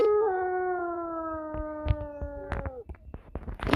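The kaiju Pavagada lets out a long wolf-like howl, a sustained, slowly falling tonal cry that fades out. Sharp clicks and thumps break through around it and grow busier toward the end.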